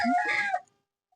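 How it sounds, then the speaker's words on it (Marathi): A hen gives one short, throaty cluck lasting about half a second, then everything goes quiet. "बसलेत अंड्यासाठी कोंबड्या"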